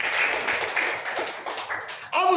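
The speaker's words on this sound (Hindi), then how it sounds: "ताली बजाओ इसके नाम।" A church congregation claps together during a Hindi-language sermon, a dense, steady patter of many hands that carries on throughout, with a brief louder burst of clapping near the end.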